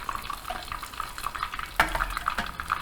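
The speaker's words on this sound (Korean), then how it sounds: "We fry it once like this" Chicken pieces for Korean dakgangjeong deep-frying in hot oil, a steady close bubbling sizzle with stirring and clinking, including a sharp knock partway through.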